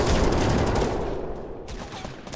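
New weapon fired in Fortnite, a rapid burst of automatic gunfire that is loud at first and then tails off, with a short bright rattle near the end.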